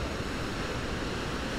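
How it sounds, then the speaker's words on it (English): Turbulent ocean waves crash and churn against a rocky coastline along 17 Mile Drive, a steady broadband roar of surf and wind that stays loud and unbroken throughout, with no voices. "Waves are constantly converging and crashing into each other, likely caused by submerged rocks."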